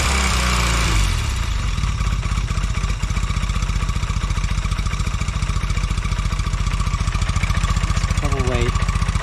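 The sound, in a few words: Velocette motorcycle engine running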